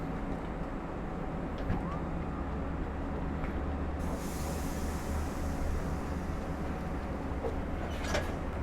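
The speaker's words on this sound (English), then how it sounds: "train is now being moved forward" A Long Island Rail Road train at Westhampton station creeps forward with a steady low rumble and hum, a continuous mid-distance drone of rail cars rolling slowly, with faint hiss and a few distant voices.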